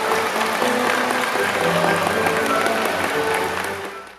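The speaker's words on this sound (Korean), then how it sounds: "다시 한번 여러분 우리의 마음을 함께 모아서 큰 감사의 박수" A large audience at a Korean national unity rally applauds in thanks, steady dense clapping that holds for several seconds and then fades out at the end.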